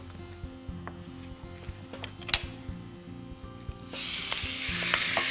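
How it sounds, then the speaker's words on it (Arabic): Minced meat frying in oil for kofta lasagna, quiet at first with utensil clinks and taps, then a loud, broad sizzle erupts as onion goes into the hot pan and keeps hissing steadily. "طيب هنرمي فيها البصل،"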